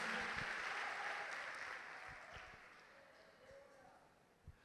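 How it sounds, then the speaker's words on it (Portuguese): Church congregation applauding during a sermon by Pastor Danyel Pagliarin, a fairly faint wash of clapping that fades steadily over a few seconds, with a few scattered thumps. "Vamos aplaudir a Jesus por isso"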